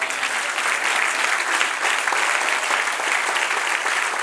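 A church congregation breaks into sustained, even applause, with many hands clapping steadily and loudly at close range throughout and no talking on top.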